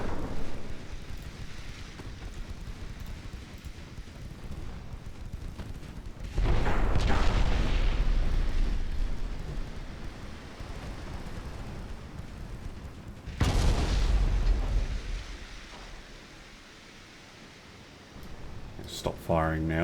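Naval guns in a Japanese classic campaign naval battle game boom in two big, rumbling salvos several seconds apart, each swelling into a long, heavy explosion roar, with quieter battle ambience and a voice in between.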